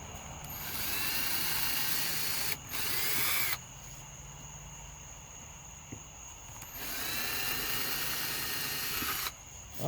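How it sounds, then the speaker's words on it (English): A power drill bores holes into a wooden decorative keychain holder, running in two sustained, loud whirring bursts separated by short pauses. "Alright, so our holes are now drilled."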